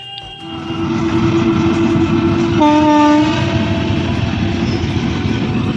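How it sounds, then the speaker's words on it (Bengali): A train rolls past near a village fishing spot, a steady loud rumble of wheels and cars filling the scene, with a horn sounding briefly midway. "এদিকে আমরা মাছ ধরছি আর ট্রেন চলে যাচ্ছে তার নিজের গন্তব্যে"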